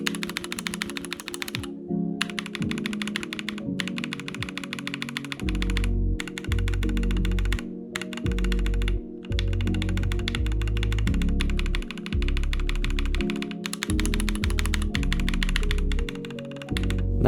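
Rapid clacky typing on mechanical keyboard switches, bursts of keystrokes with brief pauses, close and crisp, no voices.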